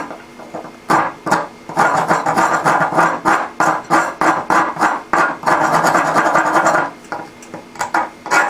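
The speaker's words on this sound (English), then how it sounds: "I'll do my initial rough shaping with this rasp" Rasp roughly shaping a piece of wood for a slingshot: loud, close, rhythmic back-and-forth scraping strokes in quick succession, about two per second, with a few brief pauses between bursts.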